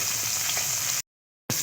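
Fish with the head left on fries in hot oil in a pan: a steady, dense sizzle that cuts out into a short silence, then resumes just as loud.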